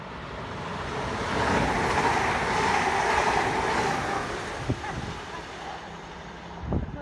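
Virgin train pulling into Wigan North Western station, a broad steady rumble that swells in the middle and then eases, with a couple of brief knocks near the end and faint talk in the background.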